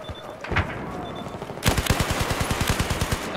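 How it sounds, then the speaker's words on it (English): Machine gun fire in Battlefield 4 on PS4, during an online multiplayer Obliteration match on Pearl Market: a single shot, then a loud, rapid burst of evenly spaced rounds that continues to the end. "Oh, I think I'm shooting my teammate"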